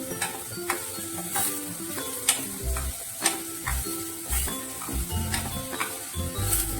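Onions frying in oil on a medium flame for a Marathi bean and potato vegetable dish, a continuous soft sizzle with intermittent clicks and spatula taps against the pan, close and moderately quiet.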